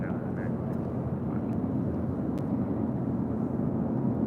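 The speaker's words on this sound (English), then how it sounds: "This is United 1331 taking off to Newark on a 757-200." A United Boeing 757-200 airliner takes off at LAX, its jet engines making a continuous heavy roar heard from a distance, with people talking over it.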